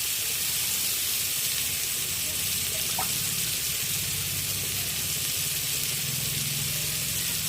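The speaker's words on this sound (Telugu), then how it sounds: "ఆ చికెన్ ముక్కని తవ్వ మీద పెట్టుకోవాలి ఓకేనా ఈ విధంగా పెట్టుకొని బాగా ఫ్రై చేసుకోవాలి" Chicken pieces frying on a hot tawa give a steady broadband sizzle and hiss throughout, with no talking.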